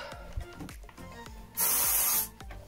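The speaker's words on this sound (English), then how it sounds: "every second I spray it" An aerosol hair product sprays in one steady hiss lasting under a second, close by, preceded by a few soft rubbing and handling knocks from the can.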